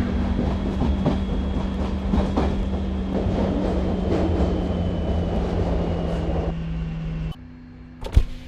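A passenger train in a railway simulator game rumbles steadily with a low electric hum and faint clicking as it arrives at a station on the Barcelona Sants to Madrid Atocha line, then the noise drops away and a sharp clunk follows.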